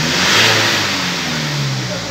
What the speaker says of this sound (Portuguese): Acelera aí, Kane.